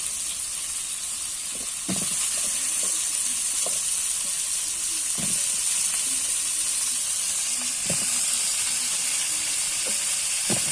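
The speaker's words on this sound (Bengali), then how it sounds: "লবণ হলুদ দিয়ে ওলটাকে ভেজে নেব।" Pieces of elephant foot yam crackle and sizzle in hot oil with salt and turmeric, a constant hiss broken by a few soft thuds and scrapes as the pan is stirred.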